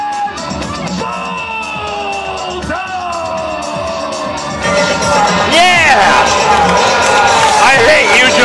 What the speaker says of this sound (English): This crowd is so loud, I can't hear a word you're saying right now.